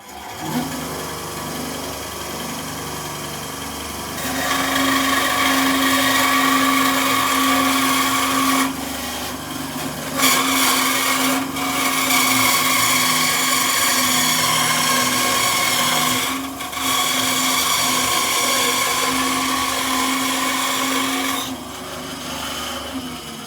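A Scheppach BASA1 bandsaw whines steadily as it cuts through wood, the tone rising in loud sustained passes broken by brief pauses between cuts.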